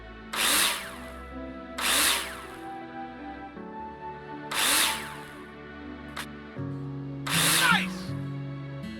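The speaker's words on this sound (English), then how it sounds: "Take your drill out and screw them in." Power drill driving screws into plasterboard in the Builder Simulator construction game, four distinct whirring bursts spaced about two seconds apart, close and fairly loud over a steady low background hum.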